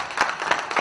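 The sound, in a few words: round of applause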